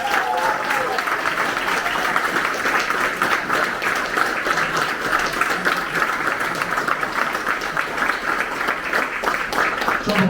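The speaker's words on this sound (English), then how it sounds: "let's give them another big round of applause" Sustained audience applause at an offshore industry awards presentation, dense steady clapping from a large crowd holding an even loudness across the whole stretch with no talk over it.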